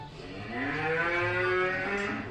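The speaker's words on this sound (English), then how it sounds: "No, that's a cow." A cow gives a long, loud moo with rich harmonic tones, swelling through the middle and holding steady before tapering, heard alone without any talk.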